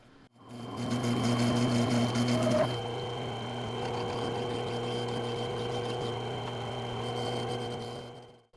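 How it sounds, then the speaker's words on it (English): Lathe cutting a slice off a drilled piece of brass stock, a steady motor hum with a tonal whine that drops after a few seconds, continuing evenly close by until the machine winds down. "So I've set up in the lathe, I've got a piece of brass stock, and I've gone ahead and drilled it, and I'm going to slice a piece off."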